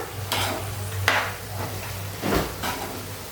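Ivy gourd and potato dry vegetable stirred in a pan, giving a faint sizzle under a few soft scraping strokes of a spoon against the pan, close and quiet, with no talking.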